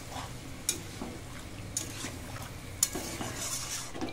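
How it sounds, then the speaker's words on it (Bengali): Chicken being stirred in a pan with spice paste and a splash of water, with soft scraping and a few sharp clinks of a utensil against the pan at intervals over a low, steady sizzle. "খুব ভালো করে মাংসটা নেড়ে দেব।"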